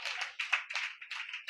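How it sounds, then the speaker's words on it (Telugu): A church congregation claps along during a Telugu sermon, producing quick rhythmic handclaps, about seven in a second and a half, sounding thin and somewhat distant, with no voices over them. "కొట్టు చప్పట్ల గట్టిగా, కొట్టు కొట్టు"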